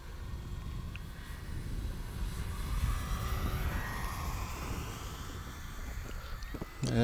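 An E-flite P-51D Mustang 1.5m RC model plane flying at partial throttle outdoors, giving a faint, wavering motor whine that rises and fades as it passes, with a louder thump near the end.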